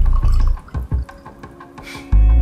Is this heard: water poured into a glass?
yes